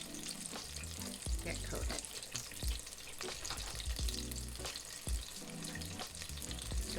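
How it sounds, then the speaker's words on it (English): Tater kegs deep frying in a deep fryer basket, a steady loud crackling sizzle with bursts of bubbling throughout, while a voice briefly speaks over it. "in the deep fryer so that it doesn't go ahead and adhere to the basket"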